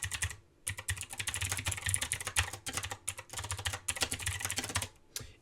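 Code being typed on a computer keyboard in rapid, continuous bursts of close key clicks, with short pauses near the start and end.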